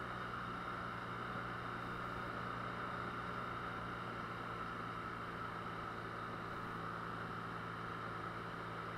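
A BMW R NineT motorcycle's boxer engine runs at idle, a constant low rumble with a dense hum above it, unchanging throughout with no voices.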